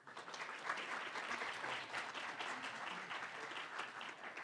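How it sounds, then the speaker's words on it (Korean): Continuous applause from a seminar audience welcoming a forest fire researcher to the stage at a forestry outlook session, dense clapping at even volume throughout. "큰 박수로 안수정 박사님을 맞이해 주시기 바랍니다"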